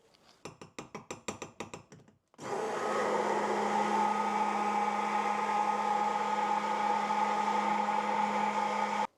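A stick blender mixes the oil and water phases of a homemade bakuchiol cream, opening with a rapid series of clicky mechanical pulses, then a short silence, then a steady, loud motor whir with a sustained hum that runs to the end.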